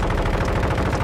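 Rapid automatic gunfire from Call of Duty Warzone 2.0 rattles continuously through a short second of dense, loud shooting with no pauses.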